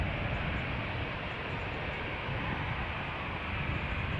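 Steady broadband roar of aircraft at Amsterdam Schiphol Airport, a continuous loud rumble with no clear rise or fade and no voices.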